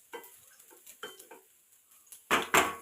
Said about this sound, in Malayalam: അപ്പോഴേക്ക് നമ്മൾ വേറൊരു പാനിൽ കുറച്ച് എണ്ണ ഒന്ന് ചൂടാക്കിയിട്ട് കുറച്ച് കടുകും അതേപോലെ തന്നെ നമ്മൾ ഒരു ഇച്ചിരി ചെറിയ ഉള്ളിയും കൂടെ ഒന്ന് ചൂടാക്കി എടുക്കുന്നുണ്ട്